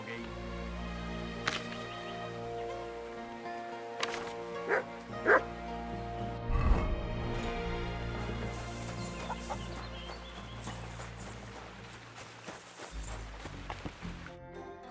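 A dog in the video game Kingdom Come: Deliverance barks repeatedly amid busy game ambience with fowl clucking, continuous background music and layered sound effects.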